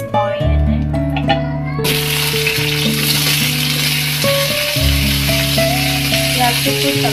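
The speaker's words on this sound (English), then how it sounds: "We have to put tomato and let it fry for 2 minutes." Spinach and tomato frying in oil in a pan, a loud continuous sizzle with stirring scrapes, over a steady tonal hum from a nearby appliance.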